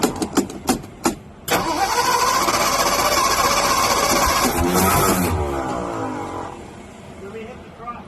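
A 1957 Ford Ranchero engine is cranked in several short bursts, then catches and runs loudly at a steady roar for several seconds before easing down toward idle.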